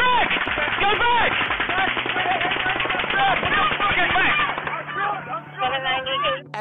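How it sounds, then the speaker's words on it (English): Rapid bursts of gunfire recorded on a police body camera during a chaotic scene, loud and dense throughout with frantic shouting voices mixed in. "there's new video from a police body camera that shows the chaos as gunshots rang out"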